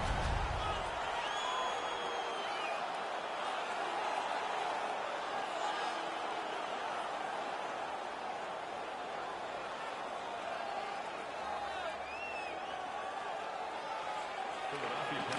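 Home arena crowd in an NHL hockey video game, Detroit Red Wings at Philadelphia Flyers, roaring and cheering steadily as a broad continuous wash of noise, with commentary talk running over it throughout.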